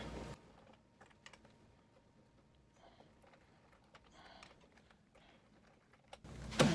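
Long screws being tightened while a gaming chair is assembled, heard as faint, sparse clicks and small ticks of a hand tool in a quiet room, ending in a louder clunk.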